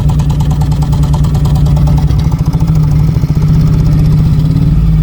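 A rough, loud Maruti Alto 800 engine with heavy vibration and low pickup chugs close by, revving up in the middle and settling back into a shaky idle.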